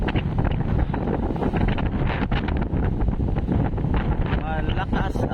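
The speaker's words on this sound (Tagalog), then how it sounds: "Malakas ang hangin." Strong wind at sea on a boat heading out into rough water roars and buffets the microphone nonstop, loud and close, with the rush of waves underneath.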